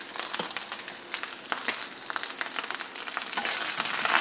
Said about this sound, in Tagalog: So, naririnig nyo na yung medyo nagpa-popping yung rice.